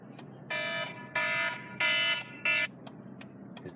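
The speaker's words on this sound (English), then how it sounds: "His damn alarm." Household alarm going off indoors, four loud electronic buzzing beeps in an even rhythm, heard alone with faint room noise between them.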